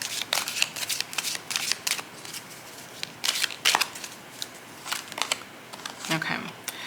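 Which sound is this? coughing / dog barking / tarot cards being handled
tarot cards being handled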